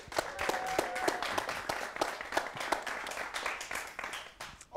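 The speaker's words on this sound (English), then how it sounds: "Big round of applause." A talk show studio audience claps for a departing guest, steady moderately loud applause with distinct individual hand claps, fading slightly toward the end.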